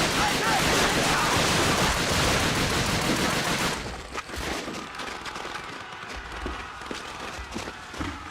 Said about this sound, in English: Take out the machine guns.